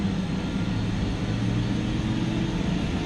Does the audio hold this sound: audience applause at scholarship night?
no